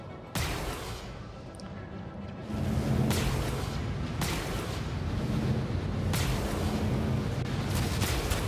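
Explosions in the video game Star Citizen boom repeatedly over a continuous rumbling background, several heavy blasts at irregular intervals.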